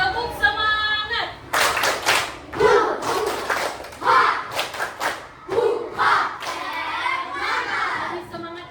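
A class claps a rhythmic spirit clap in quick patterned bursts, loud and close, mixed with children shouting and chanting along.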